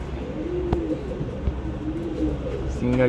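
An old line pigeon kept for sale in Bangalore coos up close in soft, rolling, repeated swoops over a low background hum.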